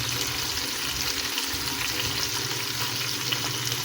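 Pork chop frying in a pan with little oil, a steady, fairly quiet sizzle running unbroken throughout with no voices.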